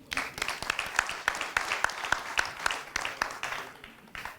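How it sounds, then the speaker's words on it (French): Applause from an audience at a conference round table, moderately loud, with distinct rhythmic claps that stay fairly steady throughout and then fade. "Donc j'applaudis Delphin."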